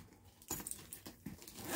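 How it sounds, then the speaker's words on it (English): A zipper on a gift bag being opened close up, a few quick scratchy rasping pulls in short bursts, fairly quiet with no speech. "there's the zipper."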